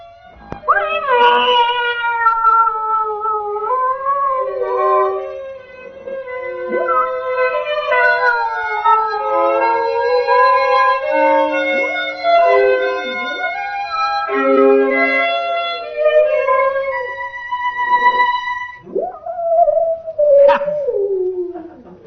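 A loud, drawn-out wavering wail with sliding pitches, a cat howling sound effect played on a comedy radio show, continuing for many seconds with shifting tones.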